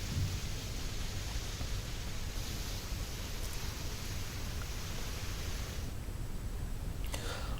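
Steady rain pours down in Telangana under a low, continuous rumble of thunder, a dense wash of noise that holds evenly throughout without speech.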